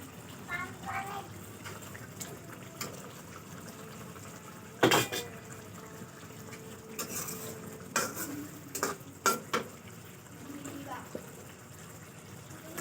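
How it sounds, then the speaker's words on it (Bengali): Fish added to a pot of taro stolons cooking on the stove, with a low simmering sizzle under intermittent clanks and scrapes of a spoon against the pot, close by, with faint voices in the background. "এখন মাছ দিয়ে দিতেছি। মাছ দিয়ে লতি দিয়ে রান্না।"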